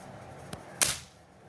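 A Magnum 350 German air gun fires once, giving a sharp, close crack with a brief hiss trailing off, preceded by a faint click.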